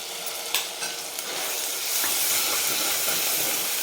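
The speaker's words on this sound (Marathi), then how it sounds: "ह्याला पण छान तेलावर परतून घ्यायचं आहे." Red chili powder fries in hot oil for a spicy Maharashtrian mutton curry, making a loud, close, continuous hissing sizzle with a few brief scrapes near the start and no talking.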